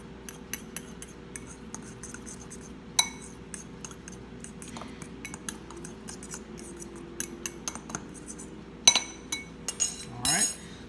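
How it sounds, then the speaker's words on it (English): Dry ingredients for protein donuts mixed in a bowl, with close, irregular clinks and scrapes of a utensil against the bowl over a quiet background, growing busier toward the end. "just mix it all up"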